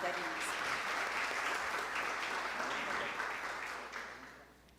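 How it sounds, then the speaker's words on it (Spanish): Steady applause from a conference audience greets a speaker at a sustainable finance panel, a dense wash of clapping that holds even and then thins and fades toward the end. "Los recibimos con un fuerte aplauso, por favor"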